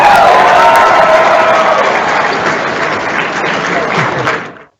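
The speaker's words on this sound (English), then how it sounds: "Yep, you got the clap." A burst of crowd applause played as a sound effect on a podcast, dense and loud clapping with scattered cheers that holds steady for several seconds before cutting off abruptly.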